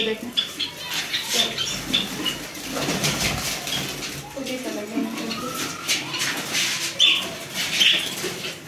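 Wings flap in bursts close by as a pigeon moves about indoors, with people talking throughout and some clattering in the room.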